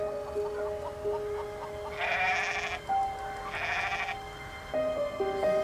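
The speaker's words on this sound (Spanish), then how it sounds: "¿quieres una cabra?" Goat bleating repeatedly in short wavering calls, two prominent bleats standing out clearly over a light background of music and room tone.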